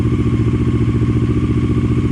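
A Honda CB500 S (PC32) twin idles warm after restoration while its carburettors are synchronised, a close, loud, even pulsing throb with a steady clattery beat and no voices.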